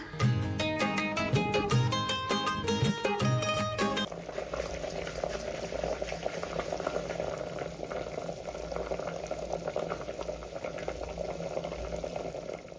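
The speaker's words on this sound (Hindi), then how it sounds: "तो लौकी उबल चुकी है" Bottle gourd in water bubbles at a steady, continuous boil, close and fairly loud, after a few seconds of music at the start.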